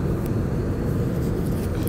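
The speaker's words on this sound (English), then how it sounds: "I'm in the plane and I've been here for like a long time." Steady low roar of a plane cabin during flight, a continuous even drone filling the background with faint brief ticks and no clear voices.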